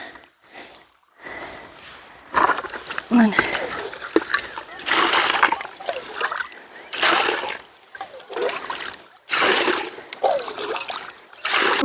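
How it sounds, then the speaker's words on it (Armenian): Water is poured and splashed in bursts onto onions in a garden plot, close and loud, with a person talking in between. "ջուր լցնեմ"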